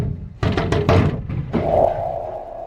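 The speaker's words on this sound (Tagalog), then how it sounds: "Anong katok-katok yan?" Knocking on a house door: a quick series of loud, close raps packed into about half a second, followed by a duller thump and a low lingering room hum.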